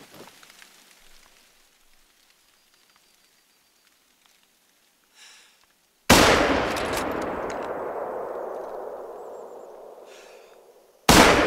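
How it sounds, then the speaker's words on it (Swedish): A rifle shot in the hunting game theHunter: Call of the Wild cracks out suddenly after quiet outdoor ambience. A long rolling echo slowly fades, then a second shot starts abruptly at the end. "Ja, vi tar ett skott bara för att vi kan."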